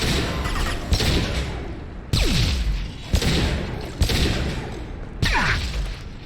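Enemies blowing up in Mass Effect 2: a series of about five sharp, heavy explosions roughly a second apart, some followed by a falling whoosh, loud and close amid combat din with no clear speech.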